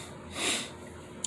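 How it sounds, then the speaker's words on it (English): A short, breathy blast of air through the nose, close by, swelling and fading within a second. "I gotta blow my nose"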